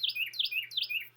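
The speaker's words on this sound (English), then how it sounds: "that's a really loud bird out my window" A loud bird calls just outside a window, three rapid repeated chirping phrases of descending tweets, clear and close over a quiet indoor hum.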